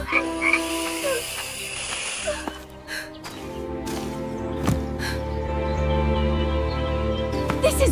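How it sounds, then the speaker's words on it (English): Frogs croak loudly and continuously in a dense chorus of rasping, overlapping calls, with a few sharper clicks and a louder, fuller swell toward the end. "The room filled with croaking and hissing until the widow fled into the yard"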